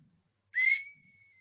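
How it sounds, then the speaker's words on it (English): A small tin whistle gives one short, bright blast that settles into a thin, steady tone trailing off for about a second, alone against a quiet background. "George has got a little tin whistle"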